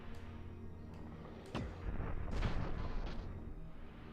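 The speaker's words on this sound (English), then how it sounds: "that's basically a rocket launcher" Rocket launcher fire in the video game Disruptor: a couple of sharp launch bursts followed by a louder, rumbling blast that trails off, with faint clicks beforehand.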